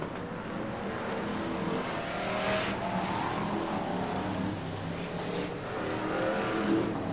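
BriSCA Formula 1 stock cars racing at full throttle at Skegness, a continuous distant roar of several engines with rising and falling passes, no talk.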